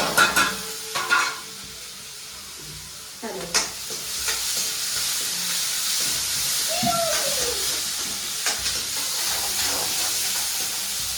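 Chillies and tomatoes fry in oil while a spoon stirs them, giving a continuous bright sizzle with scraping strokes and a few sharp knocks against the pan early on; a voice briefly sounds faintly underneath.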